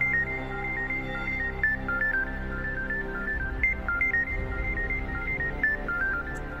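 A mobile phone ringtone plays a steady, repeating electronic melody indoors, sounding alone and at an even level throughout.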